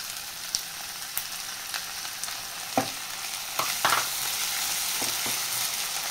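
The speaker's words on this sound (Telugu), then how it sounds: "అల్లం వెల్లుల్లి పేస్ట్ పచ్చివాసన పోయిన తర్వాత టమాటాలు కూడా వేసేసుకుంటున్నాను." Tomatoes added to ginger garlic paste fry in a pan, giving a soft, steady sizzle with scattered clicks and taps of stirring and utensils against the pan.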